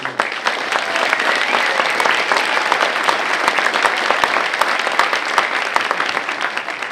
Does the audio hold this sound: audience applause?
yes